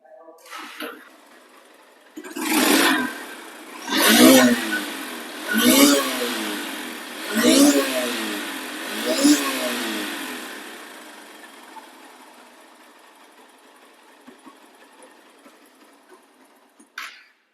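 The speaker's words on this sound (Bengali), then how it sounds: "এখন স্টার্ট করে শোনাবো গাড়িটি সাউন্ড কোয়ালিটি শুনুন" A second-hand Honda CB Hornet motorcycle engine starts nearby and revs hard five times in a steady rhythm, each rise and fall loud and close, then settles into a quieter idle.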